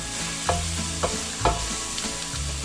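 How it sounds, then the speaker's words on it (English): Spices sauté in a hot pan for a Maltese cauliflower stew, giving a steady close sizzle broken by a few soft scrapes of stirring. "What we're going to do now is saute this for another minute."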